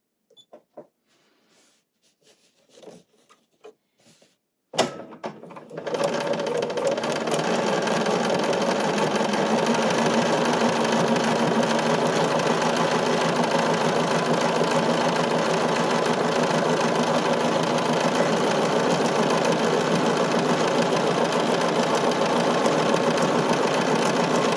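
An embroidery sewing machine stitches tinsel onto fabric, starting after a few quiet handling clicks and then running at a fast, steady, close mechanical whir for the rest of the time.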